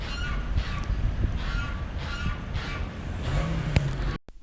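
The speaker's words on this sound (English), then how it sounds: "What beautiful singing voices those geese and ganders have." Geese and ganders calling by a river on a beach, a series of loud nearby honks and caws repeating over several seconds against steady outdoor background noise.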